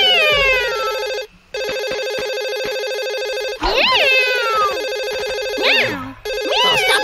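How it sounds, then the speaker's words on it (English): A cartoon telephone rings in a bright, repeating electronic tone that breaks off briefly and then resumes. Swooping, wobbling cartoon sound effects play over the ringing. "I can hear the phone."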